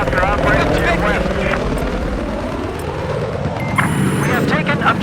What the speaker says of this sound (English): Have eyes on enemy helicopter operating to your west.